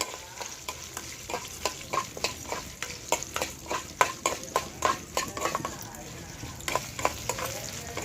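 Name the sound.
green chilies frying in a pan for cucumber chutney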